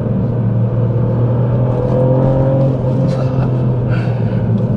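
The engine of a Ford Fiesta ST Mk8.5 hot hatch drones loudly and steadily from inside the cabin, working in second gear through tight left-hand corners, with some tyre and road noise.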